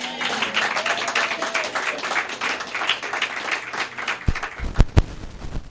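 A church congregation applauds during a sermon, dense continuous clapping with cheering, then a few sharp, separate claps as it dies away.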